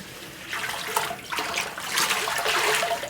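Water splashing and swishing as a charcoal soap pot, a large tilting soap-making pot, is rinsed out, close and steady over three seconds.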